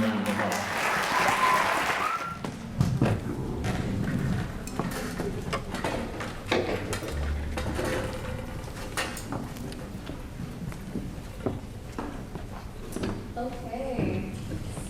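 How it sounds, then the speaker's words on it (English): A school orchestra audience at a high school winter concert claps in a sustained round of applause, fairly close and steady throughout, with scattered voices and some shuffling noises mixed in. "so give them another round of applause"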